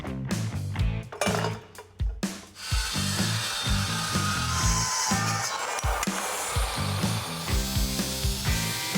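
Exhaust pipe for a Chevy Silverado with a 5.3L LS being cut, a harsh, steady rasping hum close by after a few sharp knocks at the start, with no talk over it.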